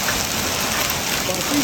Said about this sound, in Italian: si è messa a piovere, ovviamente